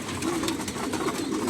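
Racing pigeons coo in a short, soft, rolling burble close by, steady and low over light background hiss.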